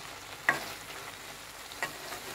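Vegetables with onion and tomato are stir-fried in oil left from frying fish, making a soft continuous sizzle with two quick stirring scrapes.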